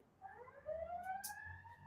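Distant city siren wailing faintly in the background, a rising and falling tone sweeping over about two seconds beneath low room noise.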